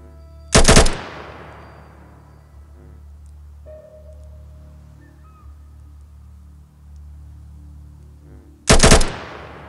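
Gunfire in the ATOM RPG game comes as two loud, short bursts several seconds apart, each with a fading ringing tail over a quiet, humming background.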